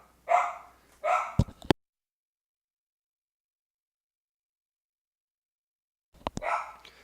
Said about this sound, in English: Man, I don't know what our dog is barking at